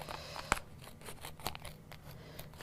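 Scissors snip through green HTV vinyl leaf shapes for a jungle party shirt, giving two sharp crisp cuts with a few softer shearing sounds between them, close and quiet.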